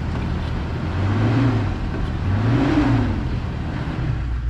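A vehicle stuck without traction revs its engine in two rising and falling surges over a steady idle, close by and fairly loud, with no talk.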